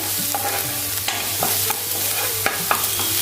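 Masala sautés in a pan with just a little oil for chicken 65: a constant close sizzle with quick spoon taps and scrapes every fraction of a second, and no voices.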